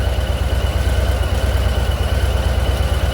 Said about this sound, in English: So you can hear a lot of valve train noise. I'm guessing that's what it is. A lot of gear whine.